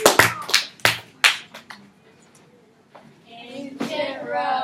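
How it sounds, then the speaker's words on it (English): A classroom audience gives a short round of applause for students presenting on ancient Rome: a few loud, ragged bursts of clapping close by, fading out before a young voice starts talking. "let's give them a big round of applause"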